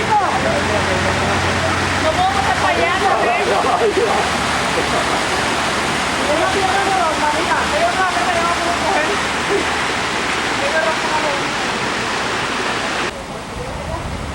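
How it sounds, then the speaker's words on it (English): A waterfall in the rainforest on El Yunque, Puerto Rico, roars as a loud, steady broadband rush of falling water, close and continuous throughout, with faint voices underneath. "There's a waterfall in the rainforest on El Yunque."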